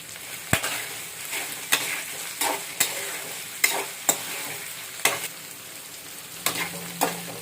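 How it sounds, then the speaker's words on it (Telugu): Salted bitter gourd frying in oil in a pan, a quiet, soft sizzle punctuated by regular sharp clicks of a utensil stirring and scraping, roughly one every half second to second. "ఆయిల్లో ఇలా ఫ్రై చేసుకుంటూ ఉందాము."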